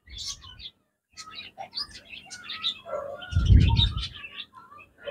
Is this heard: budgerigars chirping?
yes